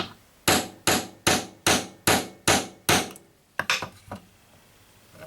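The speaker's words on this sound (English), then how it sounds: "I'm going to use my hammer just to tap it." A quick run of seven even hammer taps on a metal rivet in a leather knife dangler, close and crisp, followed by a few lighter, irregular clinks.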